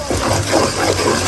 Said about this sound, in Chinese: 炒出辣香味加水